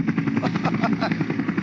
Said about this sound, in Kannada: ಬಾಸ್, ಹೆಲಿಕಾಪ್ಟರ್ ಹೊಂಟೋಗ್ತಾ ಐತೆ.